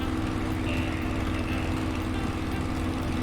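A Spitfire Mark 9C piston engine droning in Microsoft Flight Simulator during a stabilized climb, a loud, constant low rumble with no change across the moment.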